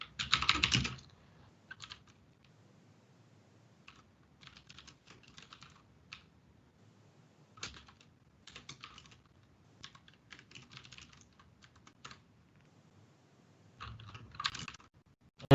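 Typing code on a computer keyboard during a programming session, with quiet scattered bursts of key clicks and a few louder clusters at the start and end, close and sparse with gaps between.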